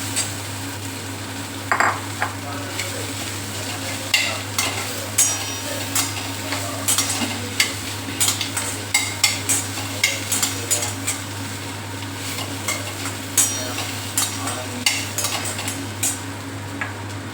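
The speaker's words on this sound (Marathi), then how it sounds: "आता हे छान परतून घेऊ यातच बटाटा टाकून घेऊ" Potato filling for masala dosa being sautéed and stirred in a pan, a steady low sizzle under repeated scraping and clinking of a spoon against metal, close and fairly loud, with no talking.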